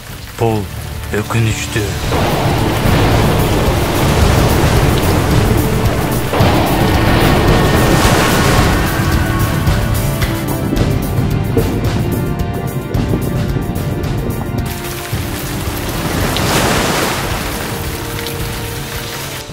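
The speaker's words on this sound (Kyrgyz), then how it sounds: "Жамгыр чакалап төгүп жаткандай." Heavy rain pours down in an animated telling of Noah's flood, a loud continuous roar with crashing surges and booming thunder-like rumbles throughout, while a voice briefly speaks over it.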